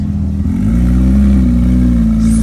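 A Porsche GT3 at a car meet holds a loud, steady engine drone that swells as it revs up and sustains close by.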